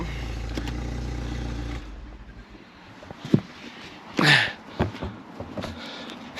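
A track-prepared Mini Cooper fitted with a decat pipe idles with an exhaust leak at the gasket, a low steady engine drone followed by sharp puffing and clattering bursts from the blowing joint.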